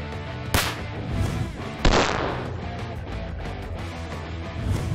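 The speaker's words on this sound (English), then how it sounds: "So when I shoot it in the front, nothing should happen." A top-venting blank gun fires blanks, giving two loud, close, sharp reports about a second apart over a dense, noisy background.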